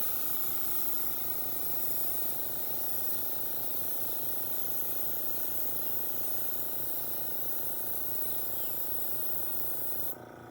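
A steady, continuous hiss of a spray gun spraying paint onto metal, broad and fairly loud, running unbroken throughout before cutting off abruptly at the very end.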